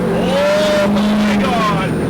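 A rare H1 Hummer's engine roars loudly under hard acceleration on a road, pitch climbing and then holding, up close from inside the vehicle with a voice partly over it.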